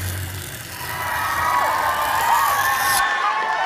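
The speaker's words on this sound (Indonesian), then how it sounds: "udah cuma segitu doang tepuk tangannya." An audience at a school cabaret drama show cheers and applauds, a loud, continuous wash of crowd noise that swells slightly and then cuts off sharply near the end.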